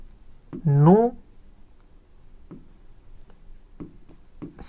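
Marker or chalk writing on a board during a chemistry lesson, a few short scratchy strokes spaced apart after a brief spoken word, fairly close and moderately quiet.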